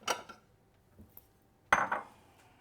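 Matcha and white chocolate cream is scraped from a pan into a bowl, giving two short bursts of clinking utensil against cookware, with a faint tap in between.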